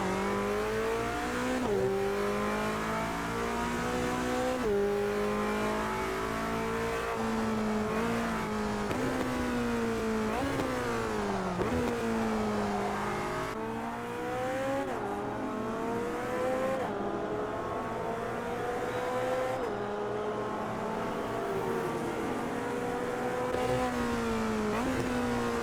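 A GT touring race car in the Automobilista 2 racing game on the Adelaide street circuit brakes and downshifts repeatedly, engine pitch dropping and blipping between gears, then climbing again under acceleration, loud and continuous in-car engine sound with no talking.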